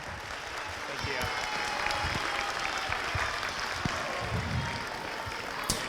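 Parents and students at a middle school winter orchestra concert give a round of applause for the orchestra director, a sustained wash of many hands clapping in a hall, moderately distant.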